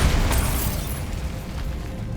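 A Bombarda blasting spell goes off in Hogwarts Legacy, a loud, deep boom with a short crackling burst that quickly settles into a rumbling tail.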